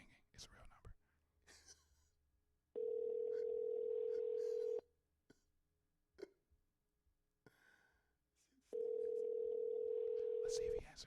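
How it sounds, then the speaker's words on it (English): Telephone ringback tone on an outgoing call, heard as two long steady tones several seconds apart, with quiet voices and noises between them. "It's ringing. It's ringing."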